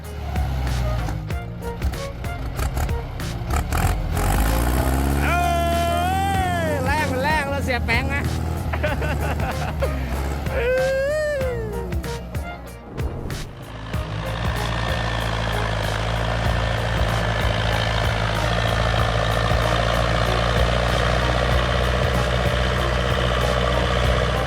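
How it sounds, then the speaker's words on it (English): A T40 tractor stuck in swamp mud during a rescue, its engine roaring loud and near, rising and falling as it strains, while a voice speaks over part of it. "It's a rescue full of sweat and roaring engines."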